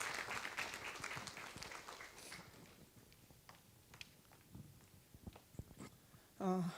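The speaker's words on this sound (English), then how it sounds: "a round of applause" Faint applause from an audience after a talk with a filmmaker, fuller at first and then thinning to sparse, isolated claps, with a brief louder sound at the end.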